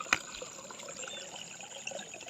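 Steady rainwater flowing and trickling outdoors after heavy rain, a continuous gentle wash with one brief knock near the start.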